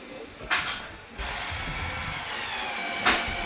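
A ratchet cranks continuously while bolts are tightened on a Yokisa massage machine, a close, dense clicking whir with a couple of sharper knocks at the start and near the end.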